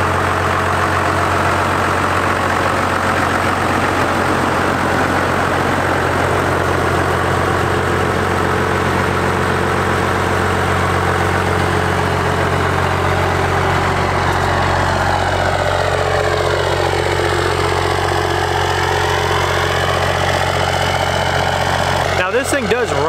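A truck engine that runs well but needs a new clutch idles steadily for over twenty seconds, a loud, even low drone with a faint whine, ending in a brief clatter.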